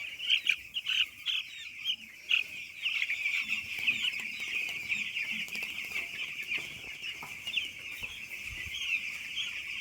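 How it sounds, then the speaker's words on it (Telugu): Chicks in a poultry farm chirp steadily in a dense, high chorus, with louder peeps rising from it here and there. Faint clucks and rustles sit beneath, and nobody speaks. "కోడి పిల్లలు"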